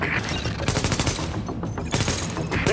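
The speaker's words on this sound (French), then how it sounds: "Les coups de feu ont dû attirer l'attention des Rikers." Rapid bursts of automatic gunfire in a PC action game, loud and close, with rattling volleys broken by short pauses and no talking.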